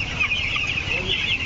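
Broiler chicks on a poultry farm keep up continuous, overlapping chirping and clucking close by, a busy flock with no pauses.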